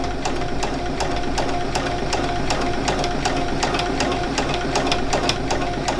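A sewing machine runs steadily, stitching a cable stitch with thick thread, its needle hammering out a fast even rhythm of sharp ticks over a constant mechanical whir, close and loud throughout.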